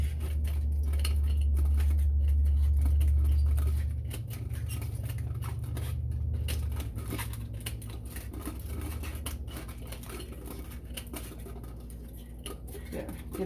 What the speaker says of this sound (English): then I cut the excess off